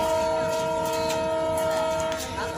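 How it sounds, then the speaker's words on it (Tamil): A train idles at a station with a steady mechanical drone and hum, a continuous loud rumble with faint sharper tones layered over it. "இதுதான் நாங்கள் வந்த ட்ரெயின்."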